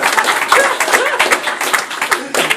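Rhythmic clapping from a congregation at a Feast of Trumpets worship service, loud and close, with voices mingling over the beat.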